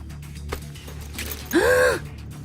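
Woman in an audio drama letting out a single sharp, audible gasp near the end, after quiet rustling and soft breathing, with no speech.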